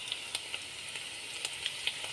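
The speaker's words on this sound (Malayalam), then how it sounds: "ഉള്ളി ഒന്ന് വഴണ്ടി വരട്ടെ" Mustard seeds and onion sizzling in hot oil for avil upma (poha), a soft steady hiss broken by small sharp pops at irregular intervals, heard close and fairly quiet with no speech.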